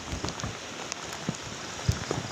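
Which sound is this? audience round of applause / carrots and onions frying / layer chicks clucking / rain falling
rain falling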